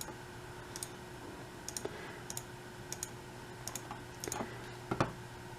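Sharp, quiet computer mouse clicks in irregular pairs, press and release, as a Photoshop lasso selection is drawn around a head, close and isolated over a faint steady hum.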